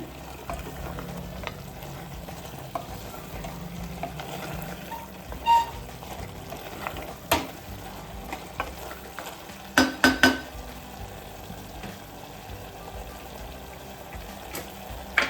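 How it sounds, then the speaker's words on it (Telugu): A spoon scrapes and stirs through thick country-chicken curry in a pot, soft and low, with a few sharper clinks against the metal. "ఇప్పుడు ఇలా బాగా కలుపుకొని"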